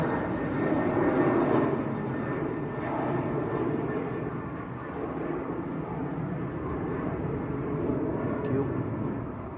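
Qatar Airways Airbus A350-1000 on short final into Manchester Airport, a continuous jet engine roar with slow swells in loudness, moderately distant and steady.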